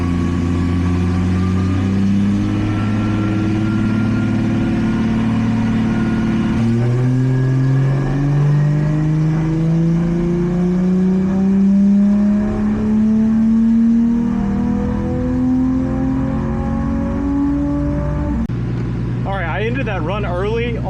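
An Infiniti G35 with boost, revving hard on a dyno, pitch climbing steadily through a long sustained pull before dropping back near the end, loud and close.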